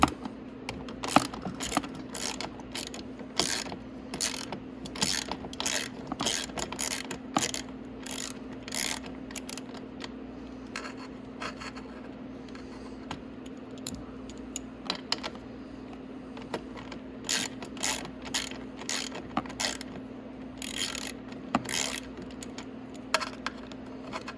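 A ratchet wrench clicks in quick bursts while turning muffler bolts on a Venom 125cc Thunder dirt bike, close and alone, with short pauses between runs of ratcheting.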